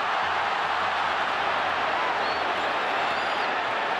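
Spanish football crowd at a France vs Spain World Cup qualifier, a steady, dense roar of applause and cheering filling the stadium throughout, with faint whistles rising above the wash of noise.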